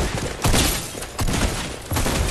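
Gunfire in Fortnite, dense bursts of shots coming in three loud waves, close and continuous with no talk over it.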